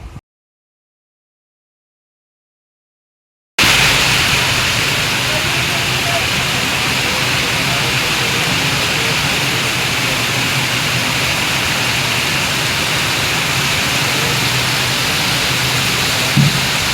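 Heavy rain pouring steadily outdoors, a dense, loud, unbroken hiss of falling water that begins after several seconds of silence and continues without pause.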